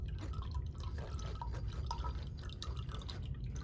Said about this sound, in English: I'm going to stir through the mixture so that the rest of the cinnamon mixture comes through the strainer